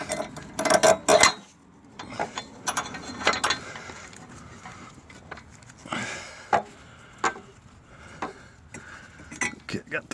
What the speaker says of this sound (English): Okay, so we're getting ready to get these back bolts in here.